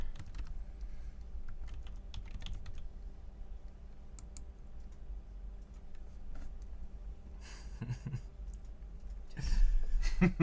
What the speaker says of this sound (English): typing the password again.